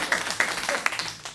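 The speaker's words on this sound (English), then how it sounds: "Let's have a round of applause, please." An audience at a bass players' gathering breaks into a short burst of applause, with scattered claps that last only a moment.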